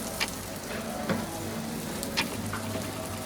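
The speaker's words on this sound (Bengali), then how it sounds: "বাকি 2টা আছে, 2টাকে ভেজে ফেলবো আমি" Eggplant kebab patties fry in a pan of oil, giving a soft, steady sizzle close by, with a few faint sharp pops and light spatula taps scattered through.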